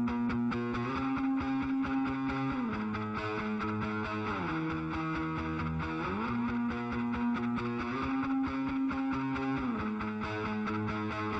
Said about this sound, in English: Now I'm gonna bring in Echo Boy.